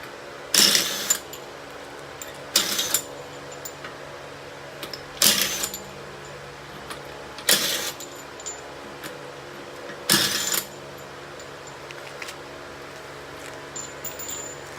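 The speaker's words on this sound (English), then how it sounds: "So let me go ahead, get the back wheels off" Wheel lug nuts coming off the rear of a 2010 Camaro with a wrench: five short, sharp mechanical bursts of ratcheting spaced a couple of seconds apart, fairly close, with quiet pauses between them and no talking.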